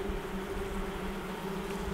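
Honey bees buzz steadily around an open hive during a late-August colony check, a continuous close hum with no talking.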